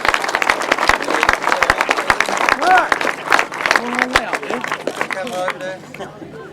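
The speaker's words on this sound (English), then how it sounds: "let's give one more big round of applause to our 3 350 winners" A grasstrack meeting crowd applauds its race winners at the rostrum, a loud, dense run of clapping over a PA announcer's voice that tapers off toward the end.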